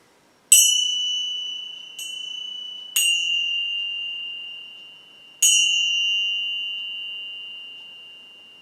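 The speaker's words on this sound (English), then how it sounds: "let me start with my little Tibetan gong" A small Tibetan gong struck four times at uneven intervals, each strike ringing out with a clear, sustained tone in otherwise silence.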